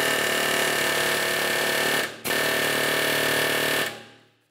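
A pneumatic air chisel with a 1/2-inch drive hammers steadily at the upper ball joint mounting bolt of a 1994-2002 Dodge Ram 2500, a loud continuous rattle that pauses once, restarts, then stops.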